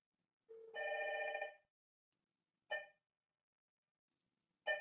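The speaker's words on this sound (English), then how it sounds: "The phone ring already." A desk phone on a Dinstar UC series IP PBX rings from an incoming test call: one longer electronic tone followed by two short bursts, clear and close in a quiet room.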